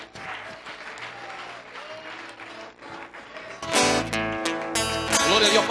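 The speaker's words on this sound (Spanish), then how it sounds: "Dele fuertes palmas al Señor." Church congregation at a Spanish-language worship service breaks into loud clapping partway through, after quieter sung or spoken worship and a wash of voices, the applause swelling strong and sustained to the end.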